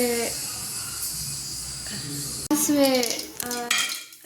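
Mustard seeds crackle and spit in hot oil in a pan while cooking a Kannada-style chickpea and pea sambar, a dense close sizzle with sharp metallic clinks of a pan or utensil and a faint voice in the background.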